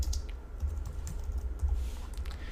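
Computer keyboard keys clicking as code is typed, a quick irregular run of close, crisp taps with brief pauses, fairly loud and with no talking over it.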